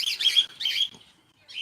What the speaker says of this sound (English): But in the aviary we have sparrows, cockatiels, Andalusian chickens